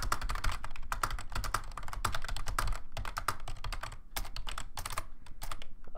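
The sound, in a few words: typing on a computer keyboard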